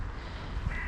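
A single brief caw from a crow among crows, pigeons and sparrows gathered at scattered treats on a late-June day, faint and somewhat distant against a low background hum.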